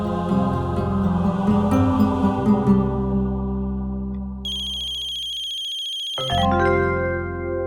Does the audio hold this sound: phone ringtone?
yes